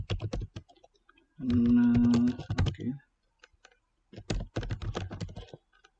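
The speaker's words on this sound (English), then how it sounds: "then I type my profession" Typing on a computer keyboard while writing a CV in MS Word 2016; bursts of quick clattering key clicks close by, pausing for a longer sustained key sound midway, then resuming in irregular runs.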